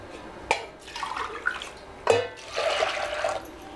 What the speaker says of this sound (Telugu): ఒక కప్పుకి రెండు కప్పులు నీళ్లు వేసుకుందామండి